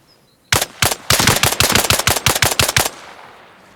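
Machine gun fire in Arma Reforger: a loud, close burst of rapid, evenly spaced shots lasting a couple of seconds after two single opening shots, then a short fading tail.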